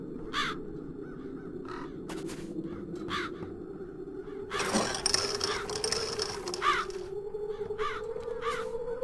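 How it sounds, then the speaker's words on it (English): Crows caw repeatedly over a steady low drone in a town scene from the adventure game The Dark Eye: Chains of Satinav, with a rattling mechanical burst midway. "The crows haven't left anything of the town's banner."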